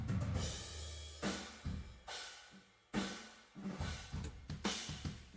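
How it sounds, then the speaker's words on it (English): A pop music mix of a song plays with a bright, stone-like room reverb, with punchy rhythmic hits separated by short gaps, each trailing into a reflective, realistic room tail. "So immediately you get this very realistic sounding room sound."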